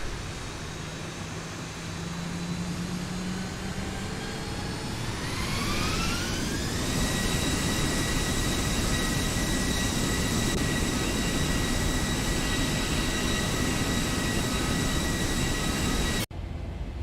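Jet airliner engines in the X-Plane 12 flight simulator spool up from idle, a steady broadband roar with whining tones rising over several seconds before holding loud and constant, cutting off abruptly near the end.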